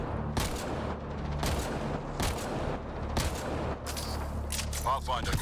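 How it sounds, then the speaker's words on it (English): Repeated pistol shots in the Mass Effect Andromeda video game, a series of sharp, evenly spaced blasts about every second over game ambience and talk. "Oh, I love this pistol."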